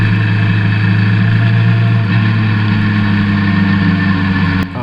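A Suzuki Bandit 1200 motorcycle engine is ridden in second gear and heard onboard. It gives a loud, steady droning hum at constant revs that barely changes throughout.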